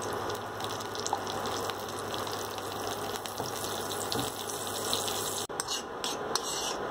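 Butter melting into two spoons of oil in a hot kadhai gives a steady, soft hiss and gentle bubbling, close and continuous, with a brief clatter near the end.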